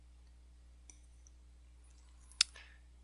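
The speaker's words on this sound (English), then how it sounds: "click on this button" A single sharp mouse click on a button, near and crisp against a quiet background, preceded by a much fainter small tick about a second and a half earlier.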